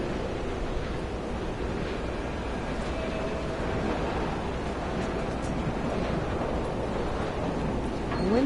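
Wind blows steadily across an exposed height in the game Dear Esther, a broad constant rushing roar that swells slightly near the end.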